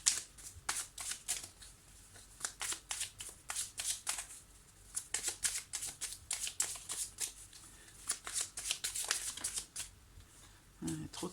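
Tarot cards being shuffled up close, rapid papery riffles and slides in irregular bursts, with a voice speaking softly in between.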